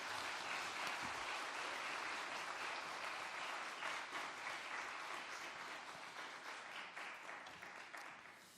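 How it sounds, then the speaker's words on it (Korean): A church congregation applauds steadily, dense clapping that holds for several seconds and then slowly thins and fades. "따뜻한 박수로 환영해 주시면 감사하겠습니다."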